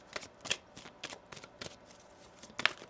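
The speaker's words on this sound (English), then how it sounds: "One more shuffle here." Tarot cards are shuffled in quick, soft riffling bursts, several brief flurries close to the microphone with quiet gaps between.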